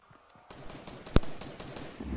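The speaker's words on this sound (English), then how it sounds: "Oh, shooting." A single sharp gunshot crack cuts through a Fortnite match amid busy background game noise and faint scattered pops, with the shot standing out loud and close for an instant.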